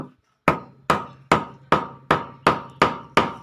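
Hammer striking a chisel to cut a mortise in wood, eight sharp evenly spaced blows about half a second apart, loud and close with nothing else heard.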